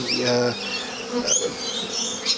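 Honey bees buzz around a backyard hive, a close and steady droning hum that rises and falls as individual insects pass near, with no voices.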